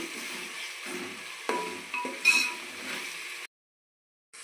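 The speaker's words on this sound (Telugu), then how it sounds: "అల్లం వెల్లుల్లిపాయ పేస్ట్ పచ్చివాసన పోయేంత వరకు వేపుకుందామండి" Ginger garlic paste frying in a pan for chicken pulao, giving a steady close sizzle and hiss with a few louder crackling bursts, then dropping away into silence near the end.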